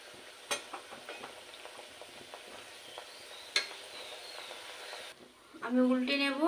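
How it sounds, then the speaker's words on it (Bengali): Bengali palm fruit fritters (taler bora) frying in hot oil in a wok give a soft, steady sizzle dotted with small pops and crackles, until a voice starts speaking near the end. "তেল গরম হয়ে গেছে। এখন বাকি সব আমি ভেজে নেব।"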